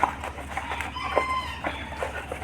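A Japanese bantam rooster crows once at a small integrated farm in Nawalparasi, Nepal, its drawn-out call rising clearly over a low farmyard hum, with faint clucks around it.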